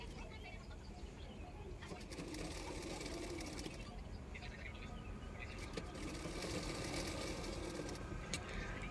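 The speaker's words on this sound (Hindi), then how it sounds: "तो नेक की किनारे किनारे पे सिलाई कर दिया है।" Domestic sewing machine stitching piping along a blouse neckline, a steady whirring hum that runs throughout in a few bursts, with a faint voice in the background.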